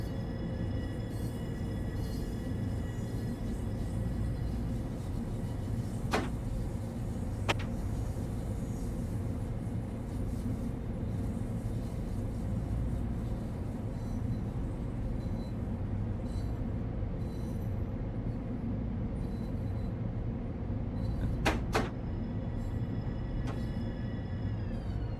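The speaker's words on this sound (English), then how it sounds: "the characteristic sound of the M7 as much as it slows down and comes to a stop" A steady low rumble of an M7 electric train in Train Sim World 3 rolling and gradually slowing to a stop, with a few faint metallic clicks and squeals along the way, no voices.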